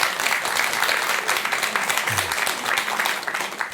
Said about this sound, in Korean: 박수 한번 쳐주셔도 돼요.